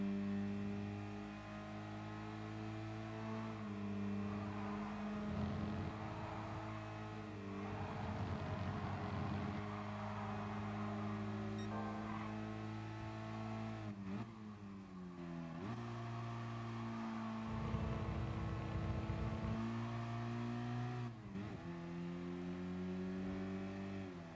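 Race cars in Gran Turismo Sport accelerate and shift through gears during a five-lap race, with several engine notes droning and rising together, loud and continuous, with brief dips between shifts.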